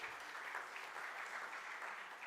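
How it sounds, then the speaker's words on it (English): Conference audience applauding at a semiconductor ecosystem session, a steady, even wash of clapping that holds for the whole stretch at moderate distance, with no voices over it. "A round of applause to Team METI"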